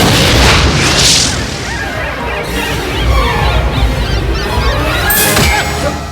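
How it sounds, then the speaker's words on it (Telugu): A loud, sustained blast roar fills the space around a Tata Sumo car being blown up in a Telugu comedy movie scene, with booming low rumble and hiss continuing without voices. "మనకెందుకు వచ్చిన బ్లాస్టింగ్ అన్నయ్య?"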